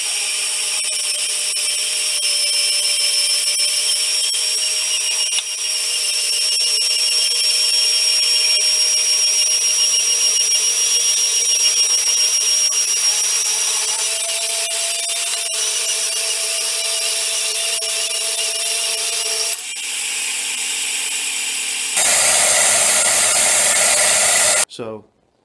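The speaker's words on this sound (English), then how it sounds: "You could take this and cut it on a portable bandsaw, and it'll cut nicely." Portable bandsaw cutting junkyard spring steel for a knife blank: a loud, sustained high-pitched grinding whine holding steady for over twenty seconds, shifting to a harsher tone near the end before stopping abruptly.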